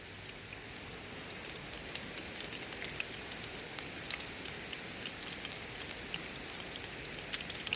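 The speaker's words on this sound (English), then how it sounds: "Bloody rain." Steady rain pattering on surfaces at a wild camp in South Wales, a constant close hiss of drops with occasional sharper taps, no voices.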